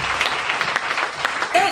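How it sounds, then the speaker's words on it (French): Congregation at a church sermon applauding: a dense, steady patter of many hands clapping close and fairly loud for under two seconds, with a brief voice or shout rising at the end. "Acclamons pour ceci."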